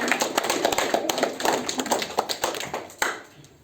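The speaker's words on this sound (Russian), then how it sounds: "Аплодисменты!" Audience applause at a student concert, dense clapping from many hands, steady and lively throughout, then thinning slightly toward the end.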